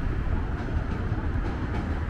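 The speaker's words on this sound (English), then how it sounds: "as you can tell by all the red line trains that have passed us" Boston red line subway train rumbling past near Charles MGH station, a steady low, loud rolling drone throughout the short stretch with no talk.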